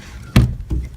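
A wooden door on a chicken pen is handled, giving a sharp thunk and then a softer knock a moment later, close by.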